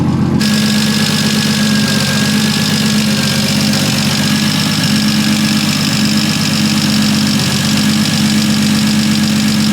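A loud, steady Toyota Supra engine idle with a deep, rumbling exhaust drone and a constant throaty burble, close up and unbroken throughout.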